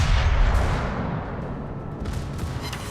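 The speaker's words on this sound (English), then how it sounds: "Dead broadside, even to the notoriously inaccurate guns on the Pommern." In World of Warships, the German battleship Pommern fires a naval broadside: a heavy, rumbling boom that rolls on as a dense, sustained roar for the full few seconds with no talking.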